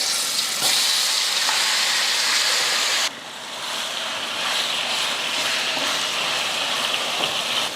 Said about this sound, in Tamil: எண்ணெய் காஞ்சதுமே கலந்து வச்ச சிக்கனை சேர்த்துடலாம்.